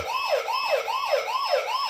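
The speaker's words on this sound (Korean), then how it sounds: "지금 사이렌도 울리고요" A loud wailing security alarm siren, set off by an office door opening, sweeps up and down in a steady repeating cycle, about two rises per second, continuous and close with no voices.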